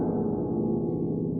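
Harp played to imitate a big gong, a low, dark sustained resonance with no high overtones, ringing steadily and fairly softly without any voice.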